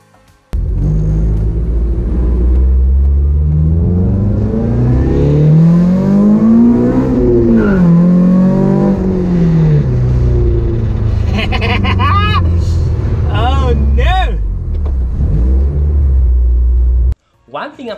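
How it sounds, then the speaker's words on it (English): A Nissan 200SX with a swapped 3SGE engine revs repeatedly, its pitch climbing and falling in long smooth sweeps, loud and close, followed by sharper quick blips before it cuts off. "One thing I'm also very happy about is the way the car sounds."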